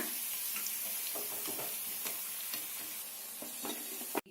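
Cabbage pakoda fry in hot oil with a continuous gentle sizzle, broken by small clicks and stirring sounds, up close and fairly quiet.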